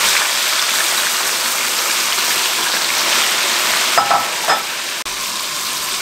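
Marinated chicken dropped into a hot pot with oil and bay leaves for a degh-style shahi korma, a steady loud sizzle and frying hiss filling the whole stretch, with brief stirring clatters near the end.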